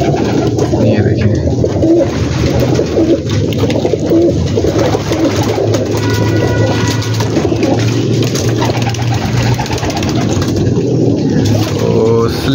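A big rooftop flock of pigeons, Ferozpuri and Slaty breeds among them, cooing and fluttering in a dense continuous chorus, with someone talking over the birds.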